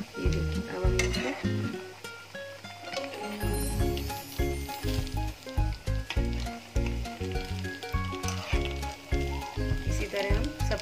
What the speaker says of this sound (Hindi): देखिए अब हम इसको पलट देंगे, इसको हम गोल्डन फ्राई करेंगे।